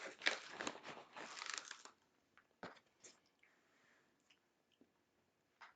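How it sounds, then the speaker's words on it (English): Close, crunchy chewing and biting of okonomiyaki, loud and busy for the first two seconds, then thinning into scattered softer mouth clicks, crunches and wet squishes with quiet gaps between. "I have a little bit of a ASMR thing going on here with me chewing."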